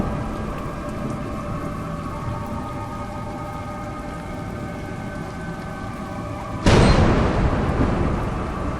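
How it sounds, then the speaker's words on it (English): Steady rain patters in the video game A Juggler's Tale, and a sudden loud thunderclap near the end breaks over it and rumbles away. "It's raining."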